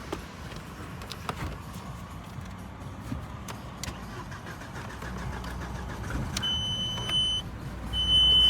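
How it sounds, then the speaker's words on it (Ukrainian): Quiet rattles and a few electronic beeps, then a 1997 Volkswagen Passat B5 engine cranks and catches near the end, its rumble swelling louder. "так, ось заведу машину."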